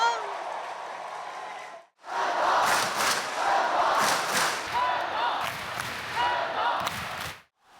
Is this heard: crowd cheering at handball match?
yes